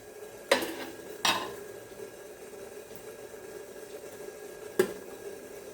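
A steamer pot lid holding rice dhokla clanks metallically as it is lifted and handled, three distinct bright clinks spread over a quiet kitchen background.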